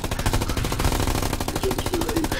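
Continuous automatic gunfire in the WW2 video game Hell Let Loose, a loud, dense burst of rapid shots running through the whole stretch with no talk over it.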